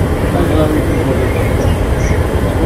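Steady low rumble of the Ganadevata Express in motion, heard from inside an AC chair car, continuous and dense with no breaks.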